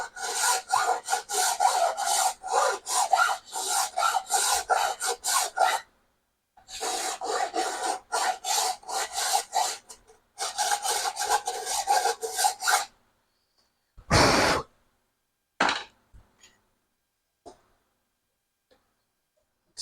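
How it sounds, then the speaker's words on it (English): A file rasps against a part for a custom H17 RC hydroplane boat. The strokes are close, steady and rhythmic and come in several long runs separated by short pauses. A few brief isolated scrapes end it, and no one speaks. "I need a little bit more filing to this side right over here"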